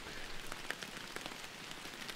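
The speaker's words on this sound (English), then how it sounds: "it's also just the pitter-patter of rain" Rain falling in the fishing video game Fishing Planet, a quiet, soft patter made of many scattered light drops tapping throughout, with no voices.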